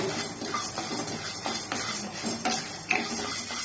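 A spoon scrapes and stirs ingredients for idly podi as they dry roast in a pan, giving a steady, close rustling and scraping with faint clinks and no speech.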